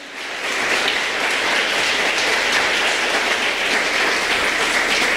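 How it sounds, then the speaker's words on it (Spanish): Sustained applause from a church congregation during a Spanish-language service, a dense, steady wash of many hands clapping at even loudness for several seconds with no speech over it. "Dele un aplauso al Señor, que Él es bueno."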